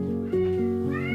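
A cat gives one close, clear meow that starts steady and rises in pitch toward the end.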